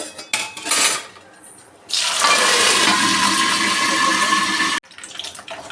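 Curry leaves, mustard seeds and cumin hit hot oil in a kitchen, bursting into a loud, close sizzle that holds for about three seconds before cutting off abruptly, after quieter clinks and rustles.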